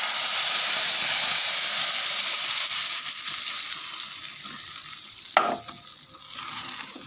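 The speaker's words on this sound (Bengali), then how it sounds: "আমি যে টমেটোটা পেস্ট করে রাখলাম এটা এখন এখানে ঢেলে দেব" Tomato paste hits hot oil in a pan for a tomato and date chutney, making a loud, hissing sizzle that slowly eases. A single clack near the end sounds like a utensil.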